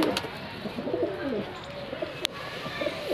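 Large pigeons coo softly and repeatedly nearby, low warbling calls over a light background hum, with a brief sharp click partway through.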